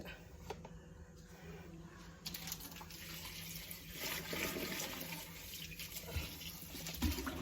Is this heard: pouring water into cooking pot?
yes